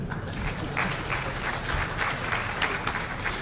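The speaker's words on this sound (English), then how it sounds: "So I think that also probably deserves a round of applause." Audience at the DEF CON 17 hacking conference breaking into sustained applause, a dense wash of many hands clapping at close range for several seconds.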